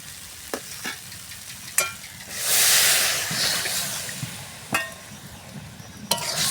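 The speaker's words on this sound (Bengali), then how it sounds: "এবারে দিয়ে দেবো পরিমাণ মতো জল।" Water poured into a hot pan of cooking tomatoes for masoor dal, a sudden loud sizzling hiss that swells and slowly settles, with a few close utensil clinks before and after.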